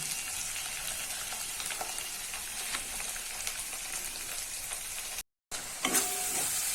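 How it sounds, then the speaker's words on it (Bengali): Ground cumin, turmeric and chilli powder fry with a splash of water in a pan for katla fish curry, crackling and sizzling steadily up close, broken by a brief cut near the end before the sizzle resumes. "জল দিয়ে একটু ভাজা ভাজা করে নেবো মশলাটা"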